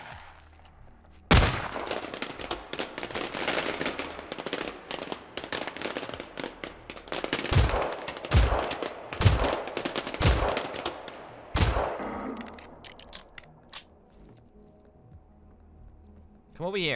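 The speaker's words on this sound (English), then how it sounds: "Now we have our trusty and rusty firework gun" Firework gun firing in a shooter video game: a series of loud, sharp blasts and crackling bursts, several close together in the middle, over a steady background of game noise.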